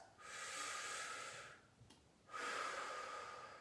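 A person demonstrates deep breathing with books resting on the body: a long, airy inhalation, a short pause, then another strong breath, close and alone with no talking.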